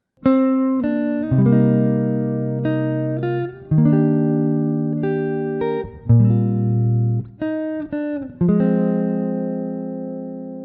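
Clean electric guitar plays soft, jazzy lofi chords with single melody notes slipped between the voicings, relaxed and unhurried, no voices.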